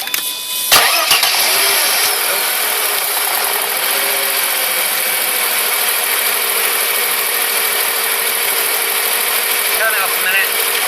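A Mercedes C280 W202 with the M104 straight-six, misfiring on cylinders 3 and 4, cranks briefly and catches, then settles into a steady, loud idle that runs on close by.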